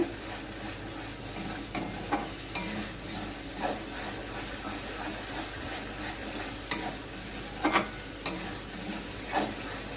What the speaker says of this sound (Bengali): মশলাটা এবার আমি ভালোভাবে কষিয়ে নেব।